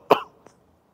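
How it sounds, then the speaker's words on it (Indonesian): A single sharp cough near the start, loud and close, with a faint second sound shortly after and quiet room tone to the end. "Batuk."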